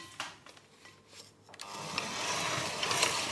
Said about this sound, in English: I'm going to use an electric mixer to cream the butter and sugar